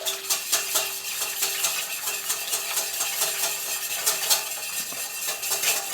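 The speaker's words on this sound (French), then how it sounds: "Là, je mélange." Flour and water tempura batter being stirred in a bowl for gluten-free asparagus tempura, giving a steady run of soft clinking and scraping strokes close by, with no talking.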